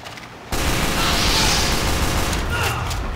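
Shotgun blasts and rapid gunfire in a Team Fortress 2 match, a sudden loud burst of chaotic shooting that continues densely and close for several seconds.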